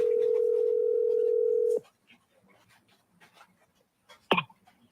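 A steady telephone dial tone hums for almost two seconds and then cuts off. Faint rustles and a sharp click follow.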